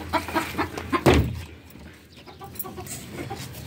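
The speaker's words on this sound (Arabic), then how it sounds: "ماشي كده بيتنا الفراخ بتاعتنا وذكر البط." Chickens cluck and a male duck calls close by at home, in short, irregular bursts over a steady background hum.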